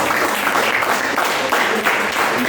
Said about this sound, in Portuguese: Dê uma salva de palmas para o Senhor Jesus.